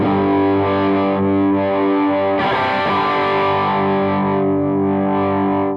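A Fender Kurt Cobain Jag-Stang electric guitar with the master tone rolled fully off rings out with sustained distorted chords, one strum and then a second fresh strum midway, dark and muffled, loud and alone.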